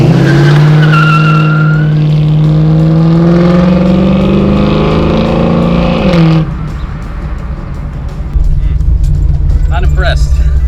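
A 1972 Chevy Nova with an LS3 V8 accelerates hard, its loud engine note climbing steadily for about six seconds before abruptly dropping to a lower, rougher rumble.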